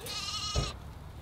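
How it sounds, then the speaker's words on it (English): A single goat bleat, a harmonic bleating cry lasting under a second, close by, followed by a brief low thump. "Courtney, why are there two goats in there?"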